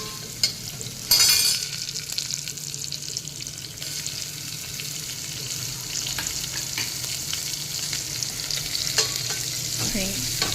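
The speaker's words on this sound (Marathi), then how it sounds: "अर्धा चमचा हिंग घालूया कांदा घालूयात" Chopped onion and asafoetida fry in hot oil for a mixed dal tadka, a continuous sizzle with scraping stirs of a spoon in the pan and a brief loud hiss near the start, no talking.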